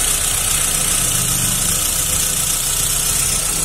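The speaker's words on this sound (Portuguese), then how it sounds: "O motor tá redondinho, não tem falha nenhuma." A car engine idles steadily and evenly after its cracked block was replaced, a constant low rumble with no misfires, heard close and alone.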